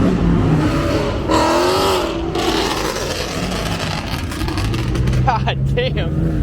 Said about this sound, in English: All you hear is fucking cars running.